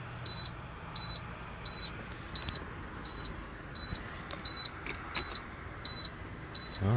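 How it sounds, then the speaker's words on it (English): A truck cab emits a repeated electronic beep, short regular tones about once a second, fairly clear over a low engine hum with no talking. "Why this thing is beeping?"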